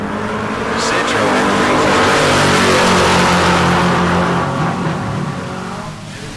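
An LS-swapped Mustang drag race car at a bracket race launches and accelerates hard, its loud engine roar swelling to a peak and then fading as it pulls away, with an announcer talking over it.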